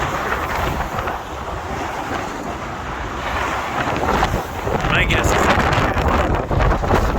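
Strong wind on the Tacoma Narrows Bridge buffets the microphone in a constant roar, with a brief spoken remark partly buried beneath it.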